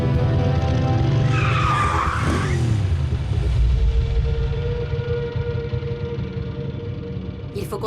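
Transformers vehicles in a cartoon roar along with a dense, continuous engine rumble and a loud tire squeal skidding across the surface, the driving noise staying heavy and close throughout.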